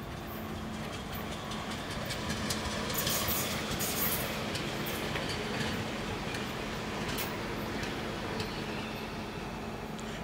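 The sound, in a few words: another Copenhagen S-train at Østerport station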